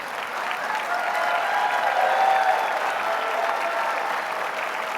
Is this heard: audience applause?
yes